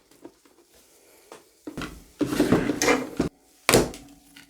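A plastic drawer is pulled out of a nail art capsule display, giving light taps, then scraping slides and a sharp final clack, close and fairly quiet.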